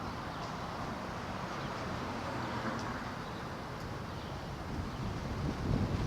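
Steady roar of northwest wind gusting to about 25 mph on a Grand Rapids, Michigan street, buffeting the microphone in a low rumbling rush that swells slightly near the end, with no voices.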